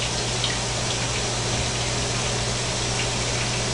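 Water runs steadily into a cold water bath, a loud continuous rushing gush with a low pump-like hum beneath it, unbroken from start to finish.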